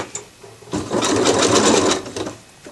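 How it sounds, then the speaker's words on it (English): A sewing machine runs a backward satin stitch on a beginner drawstring bag. It makes one steady, close whirring run of about a second and a half, with short start-up and stop sounds at each end. "the reason I'm doing this satin stitch backwards is because I only want one layer there"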